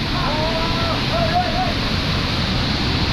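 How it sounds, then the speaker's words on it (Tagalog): Strong waves of rushing water at a big waterfall on an off-road trail, a loud, steady broadband roar with wind buffeting the microphone, while people talk faintly over it. "Lakas ng alon."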